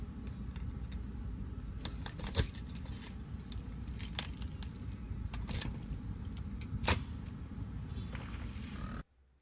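Keys jangle and clink in several bright metallic bursts as theater doors are unlocked and opened for the first time, set against a steady low rumble of traffic; the sound cuts off abruptly at the end.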